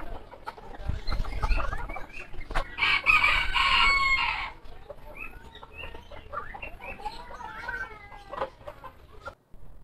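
A gamecock crows once loudly and nearby in a backyard, surrounded by softer clucking and scattered chirps from other poultry.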